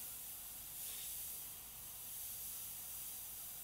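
Iwata CM-SB Micron side-feed airbrush with a 0.18 mm needle and nozzle spraying paint onto pickup truck artwork, a soft continuous hiss of air that swells slightly and stays faint and even throughout.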